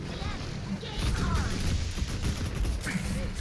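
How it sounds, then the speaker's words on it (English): Mortar shells in a competitive team shooter game land with loud dull booms and crackling debris over continuous battle noise, with voices talking over it. "There's a mortar in our house."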